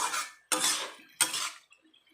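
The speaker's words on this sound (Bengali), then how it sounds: "এটা এবার আমি মিক্স করে দেব" Metal utensil scraping and clanking in a cooking pot of chopped vegetables with fried lentil dumplings, three distinct stirring strokes close up with brief pauses between them.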